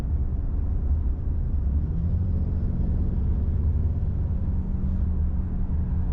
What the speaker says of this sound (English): Right here I'm going to do about half throttle.